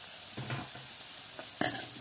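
Onions and garlic fry in a pan until brown, with a steady sizzle and a few sharp stirring scrapes, the loudest one near the end, close and alone with no talking.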